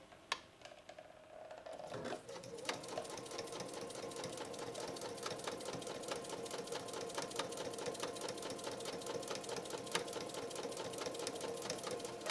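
Janome 3160 QDC sewing machine running a 2.6 length straight stitch through four layers of denim, a fast, even, close mechanical chatter that picks up after a short start and continues alone.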